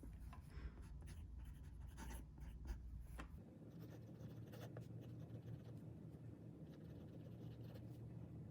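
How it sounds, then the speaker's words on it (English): Pen scratching across paper during handwriting practice, a continuous close scratchy sound with quick strokes and taps, busier in the first few seconds, then softer steady writing; no talking. "Now I'm going to write the sample."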